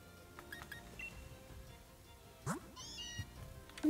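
Short cat-like meow cries from a creature in the video game Pokémon Sword, soft and brief, heard amid quiet game sounds with a faint chime.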